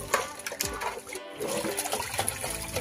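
Water splashes and pours as fish is washed by hand at home, a close, uneven run of sloshing and trickling with short pauses.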